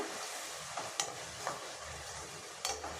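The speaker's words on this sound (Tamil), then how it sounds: "இடித்து வச்ச அந்த வெங்காயம் பூண்டு இதெல்லாம் சேர்த்துடலாம் இப்போ இதை நல்லா வதக்கி விட்டுறலாம்" Crushed onion and garlic sauté in a pan for a fish curry, giving a soft, steady sizzle broken by a few quiet clicks of a stirring spoon, faint and close with no voices.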